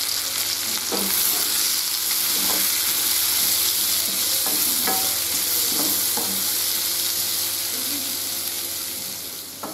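Two thinly sliced onions fry in hot oil for a semolina chicken biryani, making a steady, loud hiss, with occasional scrapes and taps as they are stirred.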